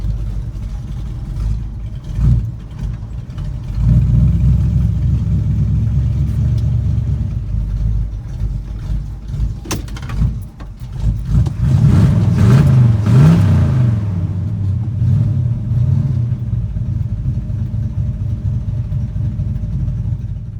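A Chevy C10 truck rumbles along on a test drive, its engine a loud, steady low drone heard from inside the cab that swells into a brief rev near the middle.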